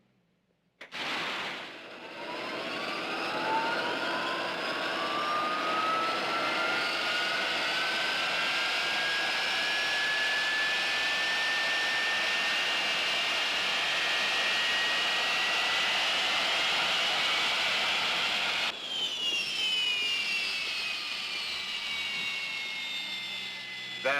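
An aircraft jet engine spools up from a start, its rising whine climbing steadily in pitch into a loud, sustained roar that holds for about twenty seconds before a sudden shift in tone near the end.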